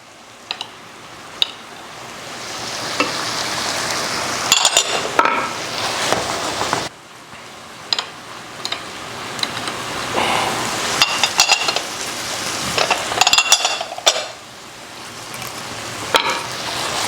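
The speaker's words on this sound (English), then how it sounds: "And just let that butter kind of melt itself in there." Butter melting and sizzling with garlic in a hot pan for keto shrimp and grits, a steady close frying hiss with occasional sharp clicks and stirring scrapes of a utensil against the pan.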